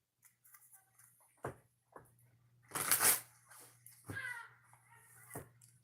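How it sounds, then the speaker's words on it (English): Tarot cards are shuffled by hand in a few separate bursts of riffling and sliding, close and fairly clear, with a low hum underneath. "So I'm going to shuffle these cards"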